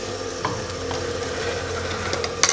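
Ginger paste hits hot oil in a pan while cooking mutton kunna, giving a continuous crackling sizzle with stirring scrapes and a few sharper clatters of a utensil at the end, with no voices.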